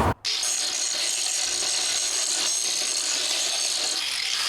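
A power tool grinds steadily on metal brackets, a loud continuous abrasive roar that runs without a break after a short start.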